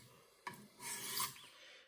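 A Cold Steel Magnum IX tanto knife blade drawn across a sharpening stone gives one dry, rasping stroke of about half a second, close and fairly quiet, after a short tap.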